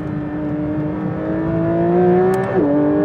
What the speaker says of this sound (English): So I've just started the car at this point